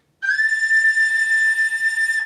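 A tin whistle holds one clear, bright, sustained note with a slight wavering, played close and alone.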